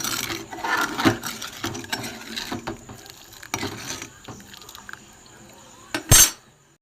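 A spoon stirs thick cardamom sugar syrup in a pot, giving soft liquid swishes and light scraping knocks that end with a sharp, bright clink of metal.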